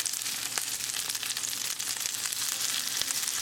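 Breaded rockfish pieces sizzle steadily in a frying pan, a dense continuous crackle with small pops scattered throughout, close and fairly loud with no voices.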